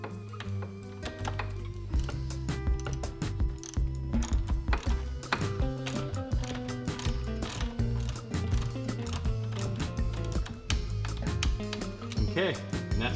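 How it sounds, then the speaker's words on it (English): A torque wrench tightens the screws on a CECCO Racing HD pinion plate cover of a Polaris Sportsman XP 1000 differential. Dense, rapid ratcheting clicks run throughout with mechanical clatter, close and fairly loud, and someone speaks over them. "take your torque wrench and 10 foot-pounds"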